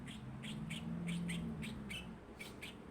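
A small pet bird chirps indoors, a series of faint, short, high tweets in a quick irregular rhythm over a low steady background hum.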